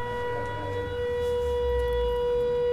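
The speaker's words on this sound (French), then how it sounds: "les habitants de Stepanakert sont réveillés par les sirènes de la ville" Air raid sirens wail steadily across Stepanakert, a sustained, loud civil defense tone with strong harmonics holding throughout under low rumbling city background, no voices.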